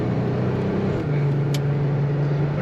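A 1991 GMC Syclone truck engine drones steadily and loud while driving, its pitch stepping to a new level about a second in and holding there.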